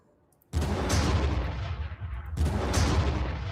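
Booming artillery fire in a Warhammer Armageddon strategy game: two heavy blasts about two seconds apart, each sharp at onset and then rumbling away, loud and close with no talk.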